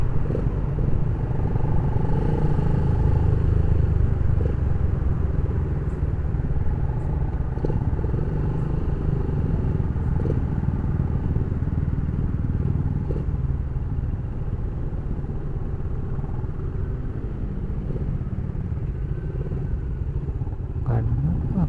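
Busy night street with motorcycles passing, a continuous loud engine rumble and drone of traffic close by, with occasional clatter and faint background voices.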